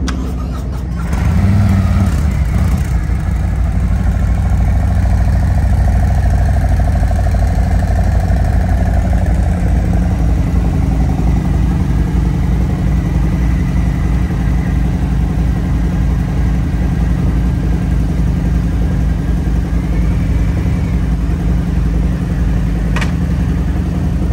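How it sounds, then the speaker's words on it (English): A Harley-Davidson 103 police motorcycle idles loud and close with a steady low rumble, and a clank marks the shift into first gear as it pulls away, with no talk over it. "Clank, first gear. Off they go."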